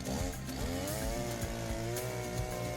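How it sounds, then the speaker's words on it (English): A regular chainsaw driving a palm-tree climbing device runs close and steady, its engine buzzing with slight pitch wavers, loud and alone without speech. "a clever old man invented a device using a regular chainsaw"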